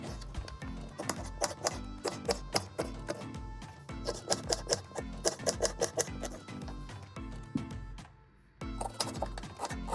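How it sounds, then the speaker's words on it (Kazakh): A knife chops onion on a board in quick, close, rhythmic taps, arriving in steady bursts with one short pause near the end. "Пиязды жартылай дөңгелекше етіп тураймыз."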